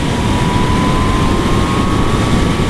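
A Yamaha MT-09 motorcycle cruising in sixth gear at highway speed, heard as a loud, steady engine drone with heavy wind rumble and a faint rising whine throughout.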